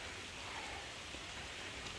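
Steady rain falls outside historic Qutb Shahi dynasty tombs of Persian and Deccan architecture, a soft continuous hiss with no distinct drops, moderately quiet and unbroken.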